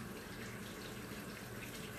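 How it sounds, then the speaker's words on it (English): Kitchen tap water runs steadily over a spatula being rinsed in a sink, a continuous even hiss and splash at low level, with no speech. "I'm just rinsing off my spatula."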